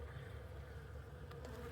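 Honeybees swarm in a dense, steady buzz during a hive inspection at the end of the season, a continuous close-up drone with no pauses.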